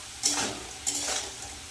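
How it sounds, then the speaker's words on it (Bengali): Potatoes fry crisp in hot oil in a home kitchen, with two quick scraping stirs of a spatula against the pan over a soft steady sizzle. "আলু ভাজাটা হয়ে গেছে এবার নামিয়ে নেব একদম মুচমুচে করে ভেজে নিয়েছি"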